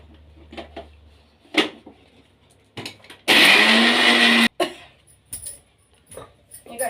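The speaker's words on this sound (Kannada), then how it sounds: "ಈಗ ದಾಳಿಂಬೆ ಬೀಜ ಏನೆಲ್ಲ ಹಾಕೋಣ ಮಿಕ್ಸಿ ಜಾರ್ಗೆ. ಈಗ ಇದನ್ನು ನುಣ್ಣಗೆ ಪೇಸ್ಟ್ ಮಾಡ್ಕೊಳ್ಳೋಣ." A mixer grinder purees pomegranate seeds into a fine paste in its jar, a loud, steady whirring burst of about a second that stops abruptly, with scattered kitchen clatter before and after.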